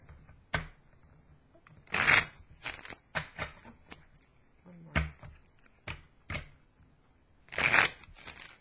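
Tarot cards are shuffled in several separate bursts, crisp riffling and flicking sounds with quiet pauses and small handling noises between them.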